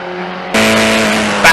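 Historic Formula Ford 2000 race cars scream past at Brands Hatch, one coming up to lap a slower car. A steady engine drone jumps abruptly to a loud, sustained high-revving roar, with a brief extra burst near the end.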